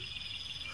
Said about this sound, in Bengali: ঝিঁঝি পোকার এক টানা ডাক